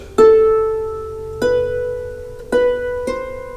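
Four plucked harp notes in a slow, simple melody, each ringing out clearly and decaying before the next, with no other sound.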